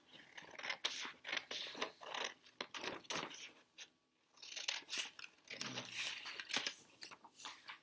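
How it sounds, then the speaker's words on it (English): Irregular crunching and squeaky gnawing sounds of a dog chewing a tennis ball repeat in quick bursts, with a brief pause midway. "Those strange noises in the background is my dog chewing a tennis ball."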